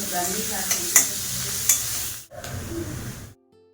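Paneer pieces sizzle loudly in hot ghee with salt and turmeric, with a few sharp spatula clicks. Close, dense hiss that drops briefly, resumes, then cuts off near the end.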